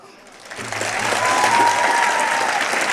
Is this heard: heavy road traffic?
no